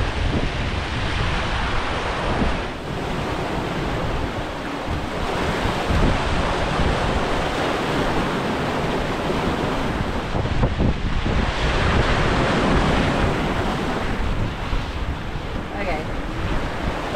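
Wind and waves at sea aboard a sailing boat during a three-week ocean passage, a steady loud roar of gusting wind buffeting the microphone over constant surf and water wash, unbroken throughout.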